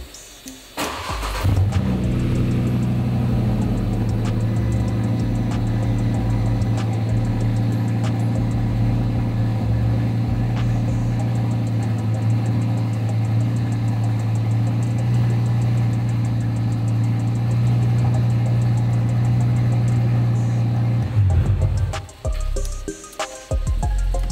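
A car engine cranks and catches, then idles steadily for about twenty seconds to circulate oil before cutting off, close and alone.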